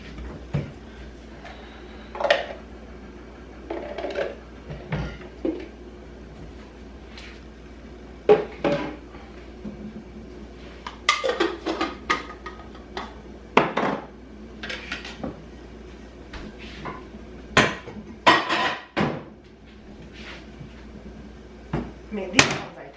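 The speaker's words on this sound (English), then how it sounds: "I'm gonna do some dishes." Someone does dishes in a home kitchen, with scattered clinks and clatters of plates, pots and cutlery and cupboard knocks and thuds, some close and sharp, over a quiet room hum.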